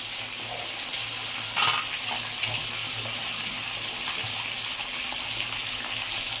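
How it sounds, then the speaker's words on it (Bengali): Bhetki fish bones fry in a pan of hot oil, giving a steady, dense sizzle that runs unbroken and close throughout, with no talking over it. "এটা আমি আগে ভেজে নিই কাঁটাগুলো।"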